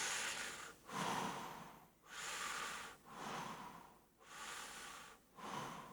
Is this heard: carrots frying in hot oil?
no